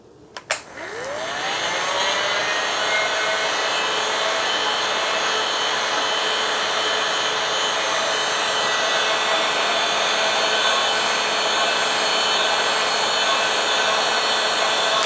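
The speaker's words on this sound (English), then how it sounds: "and then you go ahead and you add the heat gun" Heat gun blowing over melting candle wax to blend tie-dye colors, a steady loud whooshing motor roar that starts after a brief click and runs continuously without talk.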